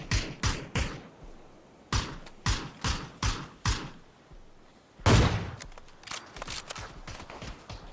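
Gunfire in the battle royale game PUBG: a rapid run of sharp, close shots, then a louder burst followed by scattered fainter reports.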